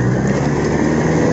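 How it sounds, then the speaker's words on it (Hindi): A Kubota MU4501 tractor pulling a 450 kg plow through soil gives a loud, steady engine drone with a continuous mechanical rumble close by and no speech. "हम जा रहे हैं ट्रैक्टर के साथ,"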